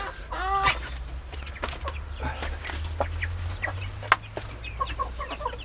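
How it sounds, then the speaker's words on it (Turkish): A chick and Indian game chickens cluck and chirp nearby, with a high peeping call early on and scattered short clucks over a low background hum. "bizi hemen sevimli bir civciv karşıladı"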